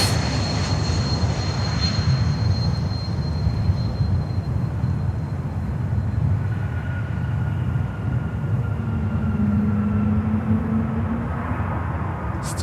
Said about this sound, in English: Embraer 295.